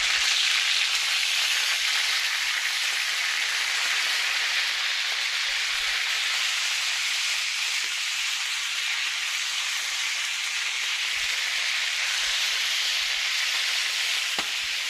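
Lemon chicken thighs fry in a hot pan, skin crisping, giving a loud, dense, continuous sizzle that holds steady throughout with no talking.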